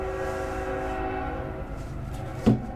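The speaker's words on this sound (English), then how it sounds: "train coming through" A passing train sounds its horn in a sustained, loud, tonal blast over the rumble of rolling cars, which fades a little before a sharp clack near the end.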